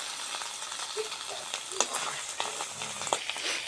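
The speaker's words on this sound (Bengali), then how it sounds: "তেল গরম হয়ে গেছে, মাছটা মাখানো মাছটা এখন আমরা দিয়ে দিব।" Marinated jatka fish fries in hot oil, giving a close, moderate sizzle with scattered pops and sharp crackles rising above a steady hiss.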